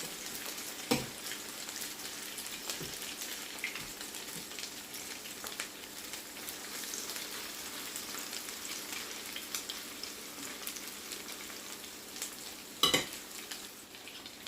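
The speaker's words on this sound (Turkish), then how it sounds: "bir tarafları kızaran köftelerimi şimdi şöyle tahta kaşık ve maşanın yardımı ile dikkatli bir şekilde çevirmek istiyorum" Meatless köfte patties fry steadily in a pan, making a continuous close sizzle and crackle with occasional sharper pops and knocks.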